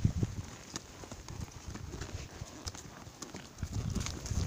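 Horse hooves clip-clop in a steady rhythmic patter of soft thuds, moderately close, with some broadband noise around them and no clear speech.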